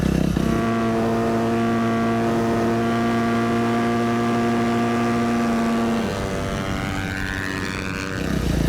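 A Yamaha YZ250FX dirt bike held at full throttle on a dirt road in fifth and then sixth gear, a loud, steady, high-revving engine drone whose pitch drops at a gear change near the end.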